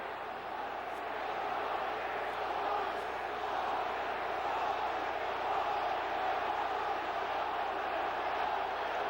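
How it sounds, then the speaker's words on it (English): Stadium crowd at an NFL game roaring continuously, a loud sustained wall of cheering and shouting that never lets up, heard from a distance with no clear voices on top. "Well, now the crowd is not letting up."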